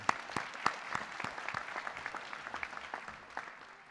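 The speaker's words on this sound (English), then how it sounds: "One more round of applause for our carpenter." Audience applause at a high school technical honor society induction ceremony, a moderate scattered patter of individual claps from a crowd in a hall, fairly distant and steady for several seconds.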